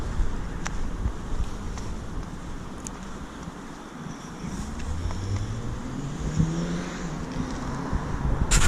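Road traffic passing near a small river, vehicles rushing by one after another with a steady roar and buffeting wind noise throughout.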